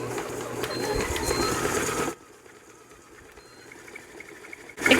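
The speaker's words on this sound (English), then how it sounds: "Now all I'm gonna do is close my mixer and let her rip until it looks like brown sugar." A kitchen mixer grinds organic cane sugar into brown sugar, a loud steady whirring drone for about two seconds, then cutting off to a quiet hum before a brief burst returns at the end.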